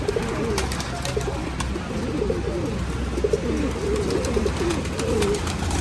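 Teddy pigeons at a pigeon festival in Nashik cooing steadily, several birds' low repeated coos overlapping close by over a constant background hum.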